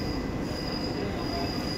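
A Kolkata Metro train on the Howrah to Airport route takes a curve, its wheels giving a sustained high-pitched squeal over a steady, close rolling rumble from inside the carriage, with no voices.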